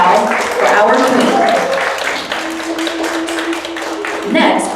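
An audience applauds for the queen at a Korean hanbok show, a continuous wash of clapping running under an announcer's voice.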